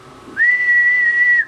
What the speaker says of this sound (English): See, if I whistle into the thing,